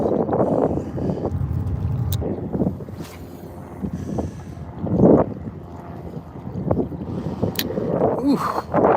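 Gusty wind buffets the microphone on a fishing dock, with heavy low rumbling bursts that swell and fade over several seconds and a few faint knocks.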